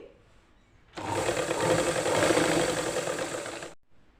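A sewing machine stitches a shortened long frock, starting abruptly into a fast, steady mechanical whirring with rapid needle clatter. It runs about three seconds, close and loud, then stops dead.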